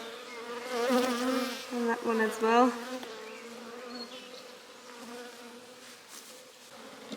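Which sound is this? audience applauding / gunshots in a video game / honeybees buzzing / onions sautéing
honeybees buzzing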